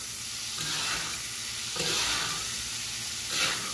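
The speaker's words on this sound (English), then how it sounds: "we'll let that side kind of cook evenly, and then we'll just continue our basting" A steak sizzles steadily in a hot pan, with three louder bursts of hissing spatter at regular intervals as fat is spooned over it during basting, close and without voices.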